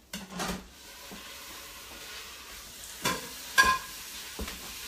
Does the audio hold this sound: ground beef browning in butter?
yes